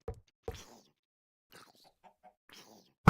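Scattered short chicken clucks from Minecraft, a few soft, separate bursts spaced across near silence, with a louder sharp sound at the very end.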